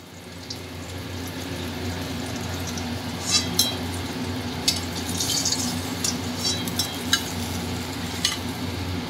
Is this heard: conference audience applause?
no